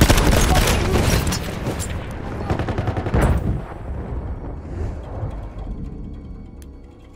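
Battlefield 1 artillery and gunfire in a loud, dense barrage of booms and rapid shots that thins out and fades toward the end.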